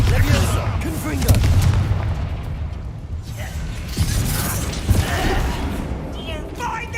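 Incendio and Confringo spells fire repeatedly in Hogwarts Legacy, a run of loud booming blasts and crackling bursts spaced every second or so over a continuous rumbling game soundscape, with speech mixed in.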